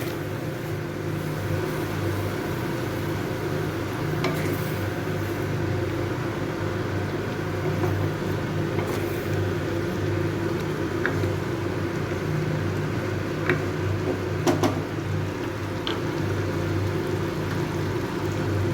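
Spice paste fries in a pan while being stirred for a vegetarian paneer rezala. A steady, close sizzling hiss runs throughout, broken by occasional sharp scrapes and clicks, with no talking.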